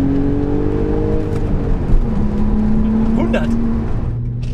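An Audi S4 B5 Avant accelerating hard out of second gear, its engine droning loudly and steadily from inside the cabin, with the pitch shifting as it pulls, and voices talking over it.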